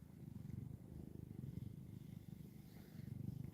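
A house cat purrs close up in a low, steady rhythmic rumble that continues without a break, quiet and alone.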